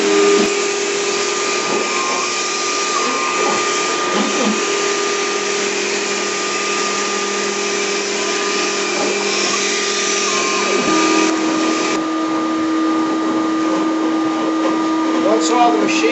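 A ShopBot CNC router runs a 1/4 inch ball nose bit through an HDU sign blank, a constant loud whining hiss with steady tonal hum lasting throughout.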